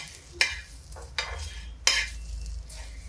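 Rice-flour soya pakoras frying in oil, a soft steady bubbling broken by three or four sharp scraping stirs of a utensil against the pan, close and fairly quiet.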